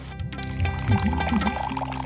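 Water is poured into a cooking pot of chicken curry, making a short, steady gushing splash over a low background hum.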